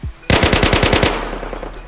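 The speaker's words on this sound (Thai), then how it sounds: "แค่เสียงปืนก็ไม่ธรรมดาแล้วนะฮะ" Automatic rifle fire from an ACR in DayZ: a rapid burst of about eight sharp, loud shots in quick even rhythm, followed by a fading echoing tail.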